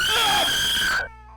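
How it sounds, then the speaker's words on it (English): One loud, high-pitched human scream, linked to the horror game Neverending Nightmares, holds for about a second and then cuts off abruptly into near quiet. "I'm pretty sure screams like these"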